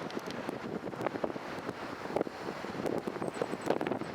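Steady wind buffets the microphone with a constant low rumble and gusty roar, outdoors and fairly loud, with no voices.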